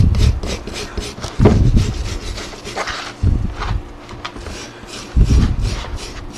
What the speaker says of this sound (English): I'll use a putty knife, or use one of these little paint scrapers here, one of these little wire brushes